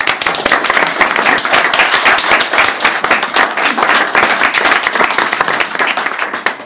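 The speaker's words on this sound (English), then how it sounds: "can we have a round of applause for Alan?" A conference audience gives a sustained round of applause for a speaker, dense steady clapping that stays loud and even throughout without pause.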